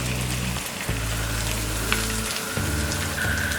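Chopped carrot and finely chopped cabbage land in a hot pan of frying soya chunk fried rice, setting off a dense, steady sizzle with a few soft stirring knocks, close and continuous.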